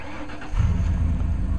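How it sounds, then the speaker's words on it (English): A truck engine cranks and catches outdoors during underground insulated PEX tubing work, shifting abruptly into a strong, rumbling idle close by. "Go ahead and start the truck."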